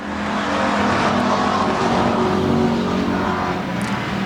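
Bomber class race cars racing at Central Arizona Speedway, with a loud sustained engine roar and droning, revving motors at a steady distance throughout and no talking.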